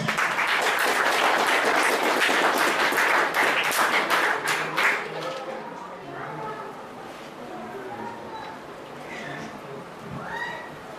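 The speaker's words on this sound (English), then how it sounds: "So let us give a big round of applause." A big round of applause at a Guru Purnima celebration: dense, loud clapping from a large audience fills the first five seconds, then fades out as voices carry on.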